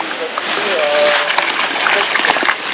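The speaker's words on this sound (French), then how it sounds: "on inonde la gouttière avant pour bien amener de l'eau dans le sol" Water pours into a garden furrow to soak a living-soil carrot bed before transplanting, a close splashing, gushing flow heard loudly throughout, with talk layered over it.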